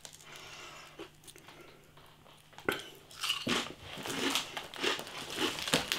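Crisp, crackly crunching of Seabrook smokehouse cayenne flavour potato crisps being chewed close up, irregular bursts growing louder and busier after a quiet start.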